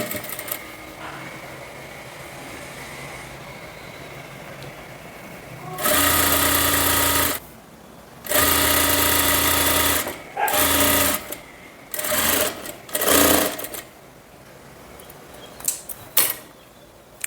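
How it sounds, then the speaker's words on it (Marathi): An electric sewing machine stitches the hem of a kurti in several short bursts of steady mechanical whirring, separated by quiet pauses and light handling noises. "तर अतिशय सावकाश पद्धतीने इथे आपल्याला शिलाई मारायची, जास्त घाई करायची नाही आहे आपल्याला."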